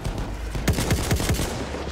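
Gunfire in Battlefield 1: four quick, loud shots in an evenly spaced burst about halfway through, over steady battlefield background noise with no speech.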